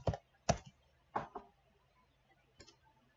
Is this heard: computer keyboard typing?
yes